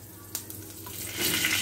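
Whole spices and garlic crackle in hot oil for a tadka of fenugreek seeds, chili, cinnamon, bay leaf and cumin. A few small clicks and pops come first, then the sizzle swells louder and close up.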